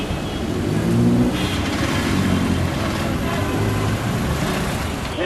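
Busy street traffic in Dhaka, Bangladesh, with a steady wash of car and bus engines, some revving, and a continuous roadway roar filling the scene; a faint voice can be made out under the noise.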